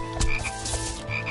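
Frog croaks from the Touhou Scarlet Curiosity video game, a few loud, rapid croaking bursts repeated over a dense, busy game soundtrack with no talk.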